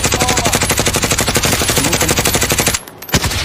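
Rapid automatic gunfire rattles nonstop in a dense, even burst aimed at a helicopter in Call of Duty: Warzone, then cuts out briefly before a few more loud shots.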